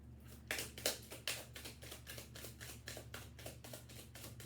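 Tarot cards shuffled by hand, giving a quick run of soft, crisp flicks and rustles in a steady rhythm, quiet and close, with no one talking.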